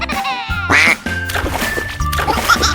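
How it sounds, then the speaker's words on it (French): A cartoon duck quacks repeatedly in a bright, nasal voice over cheerful background music and effects as it swims in a children's animation. "Le petit canard nage joyeusement."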